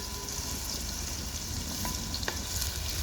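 Crab curry ingredients sizzle and brown in a pan, with a dense steady frying hiss and occasional stirring scrapes close by.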